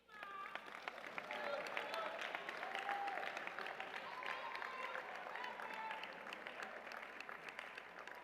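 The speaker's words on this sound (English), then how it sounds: "Let's give them a round of applause." A large commencement audience applauds graduates' families, a dense wash of clapping sustained for several seconds, moderately distant with faint voices and cheers mixed in.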